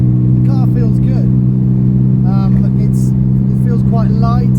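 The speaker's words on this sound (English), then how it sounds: "At the moment we're doing fairly slow speeds, about 40 miles an hour, third gear, and the car feels good." A 1958 Aston Martin DB Mark III cruises at about 40 mph in third gear, its steady low engine drone continuous and prominent from inside the car, with someone talking over it throughout.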